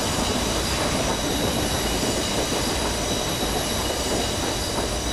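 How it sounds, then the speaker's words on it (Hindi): A local train in the Train Simulator game runs loud and close on its track, giving a dense, continuous rolling roar with wheel squeal and faint clickety-clack, and no voices. "भाई ट्रैक साउंड सुन रहे हो, ओरिजिनल जो लोकल ट्रेन वाली ट्रैक साउंड होती है ना वो डाली हुई है भाई मैंने"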